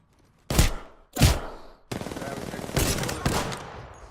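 Video game gunfire in sharp bursts: two separate short volleys followed by longer rapid automatic fire, moderately loud and close, with no talk over it.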